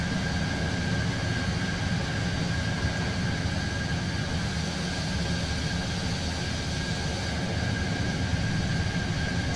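Steady, loud roar of an F-14 Tomcat's jet engines in afterburner in Microsoft Flight Simulator 2020, a continuous broadband rumble with a thin tonal whine that holds unchanged throughout, with no talking over it.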